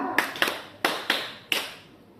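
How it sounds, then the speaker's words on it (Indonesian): A small group claps a patterned rhythm at a school session: five sharp claps in uneven clusters, close and clear, each with a short ringing decay, no voices over them. "Ini kalau saya bilang tepuk 1, 2, 3. Tek tek tek tek tek tek gitu ya."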